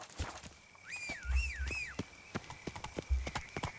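Hooves of Roach the horse clip-clop at a steady walk in The Witcher 3 video game, close and crisp, with a warbling whistle-like tone running above the hoofbeats.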